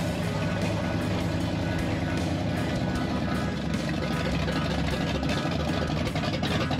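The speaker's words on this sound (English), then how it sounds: "And we drive it right into the shop and put it up on the lift." A Chevrolet C10 longbed pickup's engine runs steadily as the truck drives into a shop, giving a continuous, close, low rumble with no talking.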